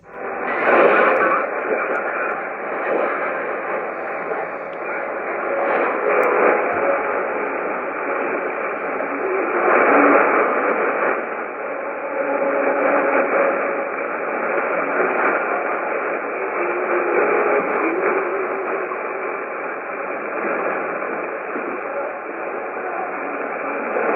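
A Sony shortwave radio receiver tuned to a station on 185 plays steadily, its sound narrow and slightly hissy, holding an even level throughout.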